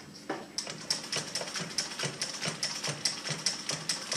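An industrial walking foot sewing machine stitches through stacked layers of denim, its needle and feed producing a steady, fast run of mechanical clicking taps close by, with no voices.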